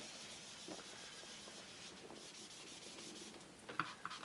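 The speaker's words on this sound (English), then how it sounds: "And I'm just going to rub along there." Soft continuous rubbing of colour across a card background for a stamped tree card, a steady dry swish with a couple of brief taps near the end.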